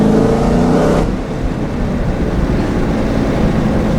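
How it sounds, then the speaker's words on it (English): A 2016 Dodge Challenger Hellcat, supercharged with a six-speed manual, gives a loud, dense engine roar through the first second, then drops to a lower, steady drone that holds to the end. No one speaks. "as fast as you can press the accelerator pedal, it starts to accelerate with zero lag"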